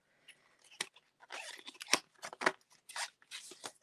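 A Stampin' Up die packaging envelope being opened up close: crisp crinkling, tearing and rustling bursts of paper or plastic in quick irregular succession.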